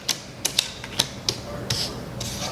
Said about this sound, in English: let's say we flip the cards over.